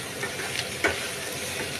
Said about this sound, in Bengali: তারপর দিয়ে দিচ্ছি রসুন কুচি, এরপর দিয়ে দিচ্ছি কাঁচা লঙ্কা কুচি। এগুলো দিয়ে ভালো করে একটু ফ্রাই করে নেব।